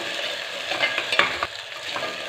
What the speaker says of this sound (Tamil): இந்த வெங்காயத்தோடு சேர்த்துட்டோம் அப்படின்னா இதுவுமே சேர்ந்து நல்லா வதங்கிடும்